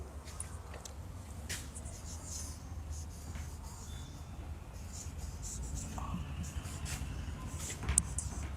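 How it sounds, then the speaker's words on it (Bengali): Pen or marker strokes writing out a sentence during an online Bengali grammar class, faint scratchy bursts over a steady low hum and background noise. "এখন লক্ষ্য করো যে আমি একটা সেন্টেন্স লিখছি।"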